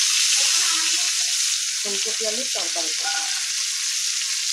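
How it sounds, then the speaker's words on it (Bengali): Cauliflower frying in a pan at home gives a steady sizzling hiss throughout, while someone talks over it in the middle. "এখন আমি ফুলকপি ভাজছি।"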